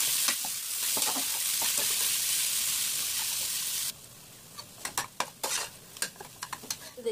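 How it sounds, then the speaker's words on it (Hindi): Three sliced medium onions fry in mustard oil with black peppercorns in a pressure cooker, giving a loud, steady sizzle that suddenly drops, followed by a run of sharp clinks and scrapes of stirring. "3 मीडियम साइज प्याज स्लाइस किया हुआ ऐड करेंगे और गोल्डन ब्राउन तक प्याज को फ्राई करेंगे"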